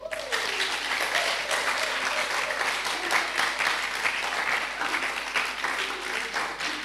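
Seminar audience at a university counselling centre applauding steadily to welcome a presenter, a dense, even wash of many hands clapping at moderate distance that holds for the whole stretch without fading.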